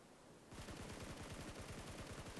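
Automatic gunfire in PUBG Mobile, during a PMGC 2023 Grand Finals esports match, erupts after a brief lull and rattles on in a rapid, even burst, with no voices.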